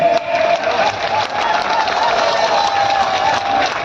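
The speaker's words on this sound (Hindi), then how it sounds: "आप उनके स्वागत के लिए तालियों से स्वागत करें।" A crowd at the Veer Tejaji fair festival gathering claps in welcome, a steady, dense wash of applause with no break across the whole stretch.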